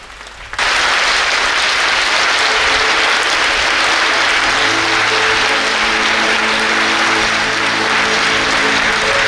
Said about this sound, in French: on va demander à tout le peuple de Dieu de se mettre debout pour applaudir les natifs de Juée